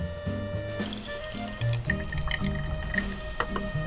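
Water runs and drips into a small Paw Patrol toy refrigerator as it is filled, with uneven splashing and trickling pulses close by and no talking.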